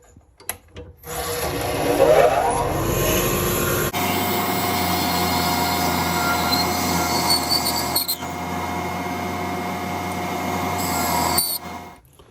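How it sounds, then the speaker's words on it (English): A drill bores about an inch into an ebonite rod for a fountain pen cap sleeve, a steady whirring grind with a spin-up at the start and a shift in pitch partway through, ending in a short wind-down. "we're only going to be drilling 1 inch into the Ebonite to get to this point"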